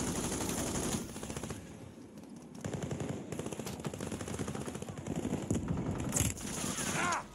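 Video game gunfire from a ranked battle royale match rattles in sustained automatic bursts, loud and close, with a short sharp burst near the end.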